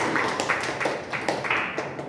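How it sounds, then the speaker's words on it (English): Small group applauding at a Toastmasters club meeting, a steady patter of individual hand claps close by and fairly even in loudness throughout, without talking over it. "Big round of applause to him"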